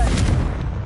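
A Confringo blasting spell explodes in Hogwarts Legacy: one short, loud, broadband boom that rumbles heavily and fades quickly.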